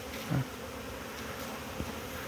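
Honeybees buzzing as they fly around their hives on the first cleansing flight of winter, a steady continuous drone of many insects at moderate distance, with a couple of brief louder passes close by.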